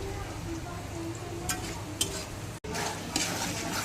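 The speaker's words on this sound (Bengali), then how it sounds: "পেঁয়াজ ভাজা হয়ে গিয়েছে, এবার মশলাটা কষা হচ্ছে।" Steady sizzling of onions and spices frying in a pan, with a few sharp scrapes of a spoon stirring and a brief dropout midway.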